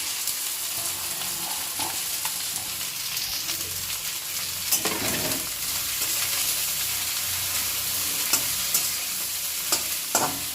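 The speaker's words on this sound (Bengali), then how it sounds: "এবার সব কচুর ফুলগুলো যে ছোটো ছোটো আকারে কেটে দিয়েছিলাম সেগুলো তেলের উপরে দিয়ে দিচ্ছি" Chopped taro flowers sizzle and crackle in hot oil, with occasional stirring scrapes and bursts of louder spitting over the steady fry.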